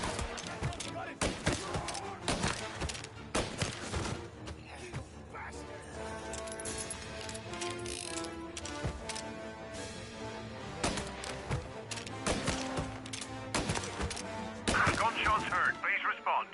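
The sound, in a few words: gunshots in a video game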